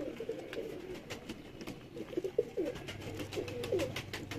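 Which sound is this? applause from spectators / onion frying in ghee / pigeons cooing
pigeons cooing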